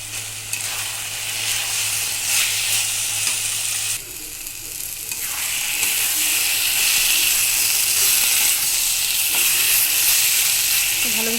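Chopped tomato sizzles and fries in hot oil for a crab curry, with steady close stirring scrapes over a continuous hiss that grows slightly louder midway.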